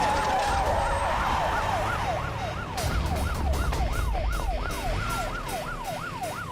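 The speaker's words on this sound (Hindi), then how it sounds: "ये तो पुलिस का सायरन है" A loud ambulance siren wails in rapid rising-and-falling cycles close by, over the rumble of traffic.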